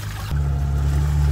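A car creeping forward in first gear through deep water, with a steady low engine drone and water churning that jumps louder partway through and then holds.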